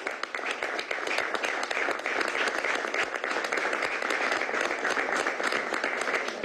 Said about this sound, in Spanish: dar un aplauso a nuestro delegado de la Mesa de México